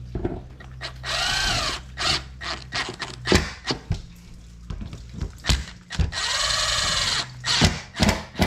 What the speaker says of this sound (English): I take the drill and this wire brush here and clean up around the edge where this plate goes